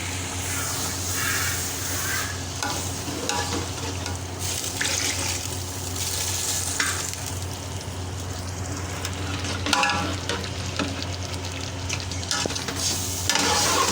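Yakhni meat broth goes into a pot of fried beef and rice for beef pulao, giving a steady pouring, sizzling wash with faint stirring scrapes over a low hum.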